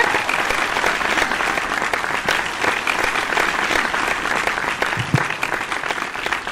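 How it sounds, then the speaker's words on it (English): A warm round of applause at the Miami Web Fest 2018 awards ceremony honoring Brian called back to the stage, sustained loud crowd clapping with a few whoops and stray voices. "Let's give him a warm round of applause for everything that he's done"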